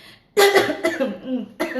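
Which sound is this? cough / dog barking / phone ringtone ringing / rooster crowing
cough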